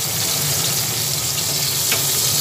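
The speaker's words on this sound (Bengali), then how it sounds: "পেঁয়াজ কুচানো দেওয়ার পরে পেঁয়াজটাকে ভেজে নিচ্ছি।" Chopped onions frying in hot oil in a wok, the same oil just used to fry fish for a sesame catla curry, give a steady, close, continuous sizzle with no talking.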